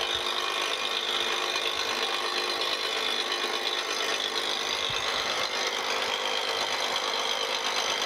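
A horizontal or vertical milling machine takes a light skimming pass across a camelback straight edge, giving a continuous, fairly loud grinding and scraping hiss with a steady motor drone and no voices.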